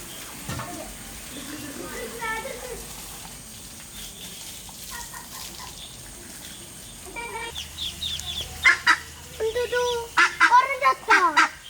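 Chickens cluck in a burst of sharp, rapid calls near the end, preceded by quieter background talk and farmyard noise.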